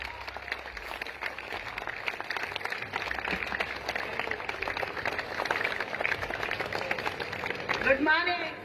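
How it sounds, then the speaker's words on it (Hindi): A standing audience gives dense, continuous applause at a steady moderate level, with a voice speaking over the clapping near the end. "खड़े होकर के एक बार जोरदार तालियां"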